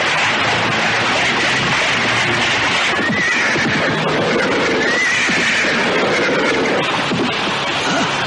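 A horse pulling a delman cart in Indonesia, neighing and whinnying loudly over continuous clip-clop of hooves and rolling cart noise, close and dense throughout.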